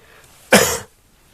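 One short, sharp cough, close and fairly loud, in an otherwise quiet room.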